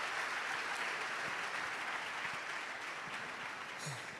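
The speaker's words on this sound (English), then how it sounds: "don't stop clapping" Audience clapping at the MTN Pulse Transform Summit 2022, a dense, steady wash of applause from a crowd, continuous and fairly even for the whole stretch, with no clear talk over it.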